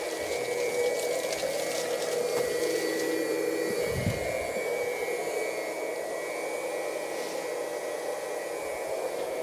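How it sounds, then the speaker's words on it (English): High pressure pump of a maple sap reverse osmosis system runs with a steady, moderately quiet whine and hiss, a constant mechanical drone with a brief low thump partway through. "And then right now is a good time to run the high pressure pump as well."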